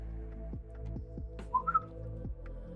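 A person whistles a short, breathy tune, a few quiet rising notes alone over a low steady hum, with no talk.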